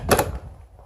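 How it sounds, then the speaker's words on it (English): The entry door of a fifth wheel RV swings shut with a single quick thump near the start, followed by a faint fading rattle. "The first test I'm going to do is to make sure that the door closes properly."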